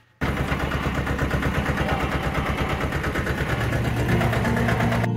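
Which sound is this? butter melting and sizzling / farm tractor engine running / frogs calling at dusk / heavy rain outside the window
farm tractor engine running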